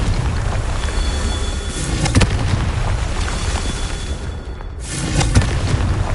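Confringo blasting spell from the video game Hogwarts Legacy: loud, booming explosive roar with sharp cracks near two seconds and again past five seconds, rumbling continuously, with no talk.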